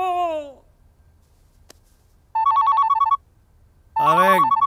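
A telephone rings in two short electronic trills, loud and close, with a voice briefly heard before and overlapping the second ring.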